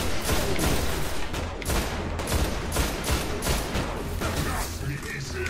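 In the video game Destiny, an enemy grenade launcher fires amid a dense, continuous barrage of loud gunfire and explosive bursts, with someone talking over the action.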